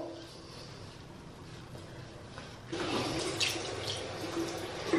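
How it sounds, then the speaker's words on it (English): Water runs from a bathroom sink tap during face washing, a soft steady rush that grows louder and splashier partway through. "I just go in and wash my face"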